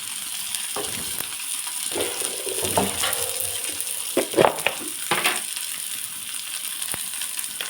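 One handful of chopped onion frying in a pan for egg dosa gives a steady close sizzle throughout, with occasional scraping and stirring clinks from a utensil.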